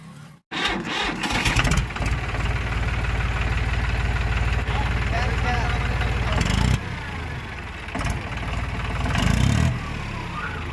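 John Deere tractor engine, just repaired with a new fuel pump setting, cranks and catches into a loud, steady knocking diesel idle that runs on with brief dips and surges, under faint background voices.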